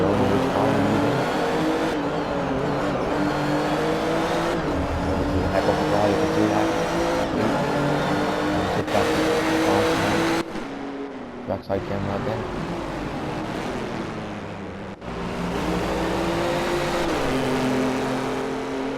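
Race car engine in a racing video game, revving hard and shifting through gears in repeated rising pulls with brief cuts, loud and continuous, while someone talks over it.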